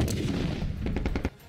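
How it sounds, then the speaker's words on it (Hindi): Rapid bursts of gunfire during military training, several sharp cracks in quick succession over a dense rumbling background, loud and close with no talk. "वहां इतनी फायरिंग हुई कि सारा इलाका गोलियों की तड़तड़ाहट से गूंज उठा"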